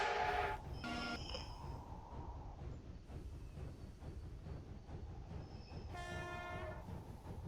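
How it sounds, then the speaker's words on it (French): Train horn in the Roblox railway game Terminal Railways, two loud harmonic blasts, one short at the start and another near the end, over a steady rumble of the train rolling along the rails. "On reconnaît ce klaxon. C'est le même klaxon que le train précédent,"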